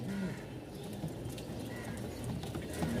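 Pigeons at a pigeon seller's in Mirpur-1, Dhaka, including racer homers and English breeds. Soft cooing comes through faintly under a busy, noisy background.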